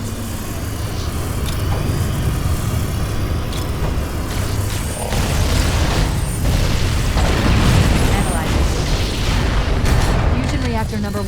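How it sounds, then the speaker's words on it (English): Explosion in Halo: Combat Evolved Anniversary as a fusion reactor's magnetic containment is destabilized, a loud sustained rumbling roar with booming bursts and mechanical noise throughout, dense and continuous. "We need a catalyst explosion to destabilize the magnetic containment field surrounding the fusion cells."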